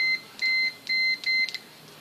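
Multimeter in diode-test mode beeping as the probes touch during a Peugeot 504 pickup restoration, four clear electronic tones of uneven length in quick succession followed by a short double blip, close and alone in a workshop.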